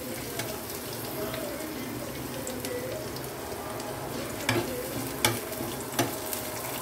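Spices fry in hot oil for stuffed pointed gourd with mutton filling, a continuous close sizzle broken by a few sharp scrapes of a stirring spoon against the pan.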